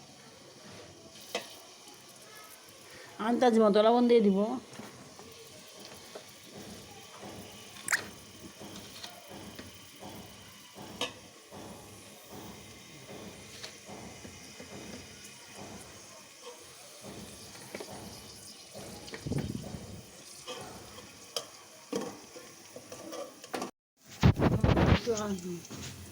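Onions fry in a little oil for biryani, giving a soft sizzle with scattered stirring clicks and scrapes. A voice talks over it now and then.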